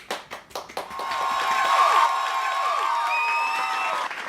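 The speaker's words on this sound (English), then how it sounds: "Everyone give her a round of applause." Applause for a student presenter at a class project presentation: a few scattered claps at first build into sustained, fairly loud clapping from a group that holds steady to the end, with no speech over it.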